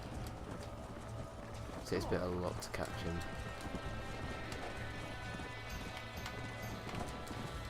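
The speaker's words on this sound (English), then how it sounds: "Unfortunately, the stallion's quite a fast horse," A stallion gallops with quick rhythmic hoofbeats in the Red Dead Redemption video game, running steadily beneath a voice talking over the action.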